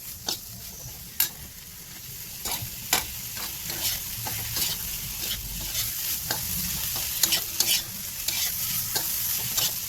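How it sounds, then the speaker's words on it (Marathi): Vegetables and soaked moong dal stirred in a pan for a kadva ranbhaji dish: a steady soft sizzle with repeated sharp scraping clicks of the spoon against the pan, close and alone with no talking. "आता हे व्यवस्थित मिश्रण एकत्रित करून घ्यायचं आपल्याला."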